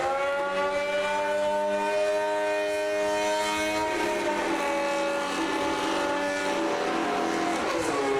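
A 2026 Formula 1 car, a Mercedes or Alpine, on track with a high whining engine tone. The pitch holds steady, then drops and wavers as the car passes, loud and continuous against faint background noise, with no talking.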